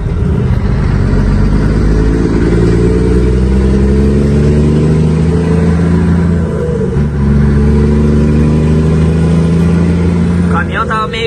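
A V8 truck engine drones close and continuously under load, its pitch rising and falling gently as the revs shift, with no pauses throughout.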